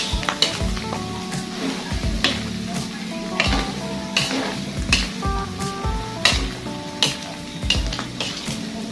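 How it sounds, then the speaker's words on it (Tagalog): Bopis sautéing in a hot pan, steady sizzling broken by repeated scraping stirs and metallic clinks of a spatula against the pan, close and fairly quiet with no talk. "gisa lang natin mga boss"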